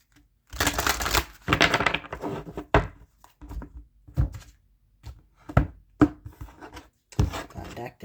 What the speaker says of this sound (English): That deck did not want to cut there for a minute.